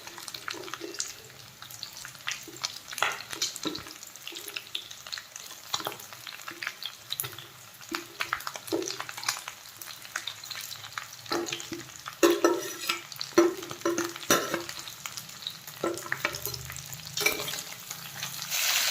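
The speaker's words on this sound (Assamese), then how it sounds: "এতিয়া ইয়াত কাটি থোৱা পিঁয়াজ আৰু জলকীয়াখিনি দি দিছোঁ।" Chopped onions and green chillies fry and sizzle steadily in a pan for an Assamese pork dry fry, with stirring scrapes and clinks recurring throughout, close and moderately loud, no talking.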